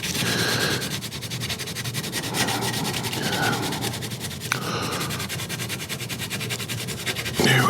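Old wood on a 19th-century Dutch marquetry armchair is rubbed clean with Crud Cutter cleaner, a close, continuous scrubbing and scraping sound in steady back-and-forth strokes with no talking.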